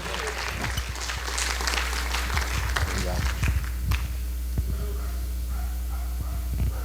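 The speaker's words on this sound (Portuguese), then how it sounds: "Uma salva de palmas a Jesus" A congregation applauds during an anniversary service at a Baptist church in Caucaia, a dense wash of clapping that is loud at first and thins out after a few seconds, with some voices heard beneath it.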